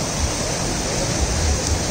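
Waterfall at Sahastradhara, a steady dense rush of falling water filling the whole clip, close and loud with no pauses.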